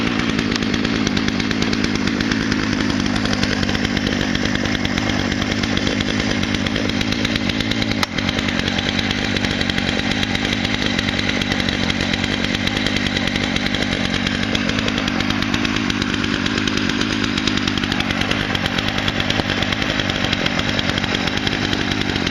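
A Poulan chainsaw, one of four picked up second-hand, runs loud and steady throughout, its engine note barely wavering as it bites through wood. One sharp click comes partway through, and no one speaks.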